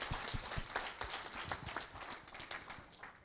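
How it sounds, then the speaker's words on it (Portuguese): An audience in a hall at a technical training talk on cutting tools claps in welcome, a dense, steady patter of many hands heard faintly and without a break. "Vamos a recibir nuevamente con un fuerte aplauso"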